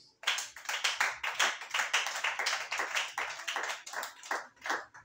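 A church congregation clapping together during worship, a loud rhythmic stream of close, sharp claps lasting throughout.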